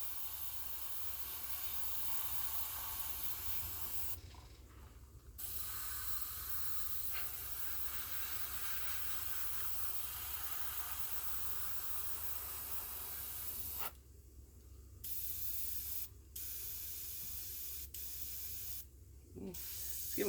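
Spray paint hisses onto an RC car body in a thin dusting coat, long steady bursts of close, soft hiss with a few short pauses between passes.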